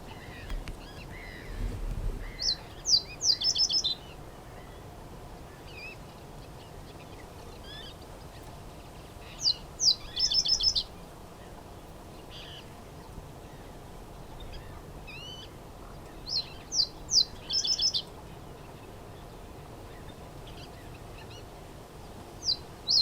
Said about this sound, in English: I could see it just sitting in the bush, just singing loudly